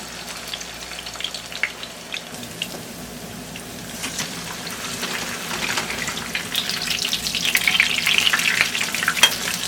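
Aloo chapli kababs fry in a pan with oil, giving a steady crackling sizzle with scattered pops that grows slightly louder and denser over about ten seconds.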